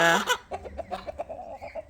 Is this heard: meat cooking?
no